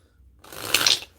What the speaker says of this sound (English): I'm just gonna shuffle it in and we'll see what it is